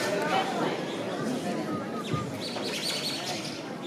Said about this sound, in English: It's the birds. Where are the birds coming from?